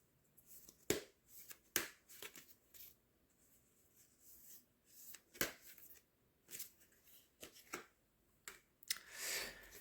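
A tarot card drawn from a deck makes soft, close paper rustles, flicks and taps scattered irregularly in a quiet room, ending in a longer shuffle.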